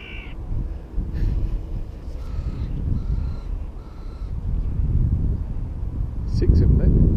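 Crows being fed specks of ham in White Table Woods caw repeatedly in short, clear calls, some close and some further off. Someone talks over the calls, and a steady outdoor rumble and wind run underneath.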